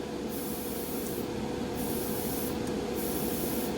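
An NTint gravity feed trigger airbrush hisses in a steady, continuous spray of air and paint, loud and close, with brief shifts in the high hiss as the trigger moves between air only and paint.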